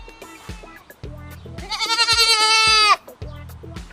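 A goat bleats on a farm in Canada, one long, loud, close wavering bleat in the middle, surrounded by soft clatter and brief noises.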